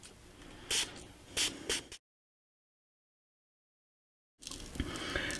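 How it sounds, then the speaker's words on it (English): Short hissing spritzes from a spray bottle of water onto a sci-fi diorama, a few quick bursts close by, then a gap of silence before more continuous spraying. "So we're just going to spray it."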